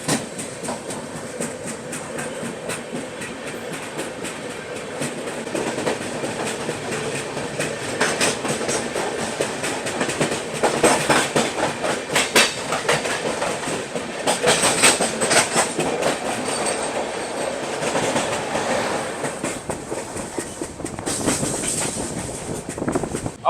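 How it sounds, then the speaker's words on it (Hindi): Riding aboard the Chennai Duronto Express as it overtakes the Grand Trunk Express near Mathura Junction: steady clickety-clack of wheels and rushing rail noise, swelling louder midway with bursts of rattling as the other train passes close alongside. "यहाँ पर ओवरटेक कर रहे हैं हम लोग GT एक्सप्रेस को, ग्रैंड ट्रंक एक्सप्रेस को"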